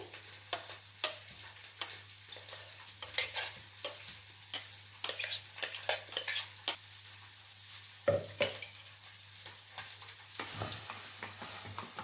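Jackfruit paste for halwa being stirred in a pot, with rhythmic scraping strokes and soft bubbling sizzle repeating steadily at moderate, fairly quiet level with no speech.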